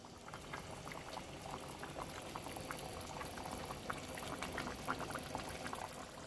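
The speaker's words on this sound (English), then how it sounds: "I'm going to wait till the rest of it comes up to simmer" Chicken, vegetables and rice with cilantro sprigs heating in a pot as they come up to a simmer, giving a steady bubbling, boiling hiss with scattered small pops throughout, fairly faint and continuous with no talking.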